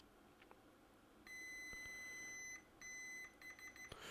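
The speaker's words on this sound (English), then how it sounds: "We'll put on our nice beeping noise so you can hear it." Continuity tester beeping while probing a trace on a MacBook Air logic board: two sustained electronic tones of about a second each, then a few short quick beeps, clear against a quiet bench.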